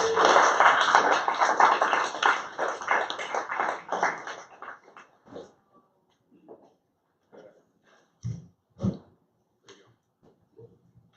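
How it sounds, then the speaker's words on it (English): Applause for a speaker invited to the stage at a nonprofit CRM event. A small audience claps briskly for a few seconds, the clapping thins out, and scattered taps and handling knocks follow in near silence. "A round of applause for Alexis, please."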